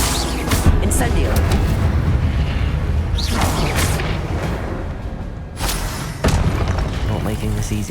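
Incendio fire spell cast in Hogwarts Legacy gameplay, heard as repeated whooshing bursts and booms under ongoing game noise, with loud swells near the start, middle and end.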